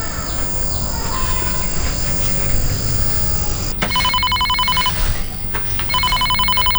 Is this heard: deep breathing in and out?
no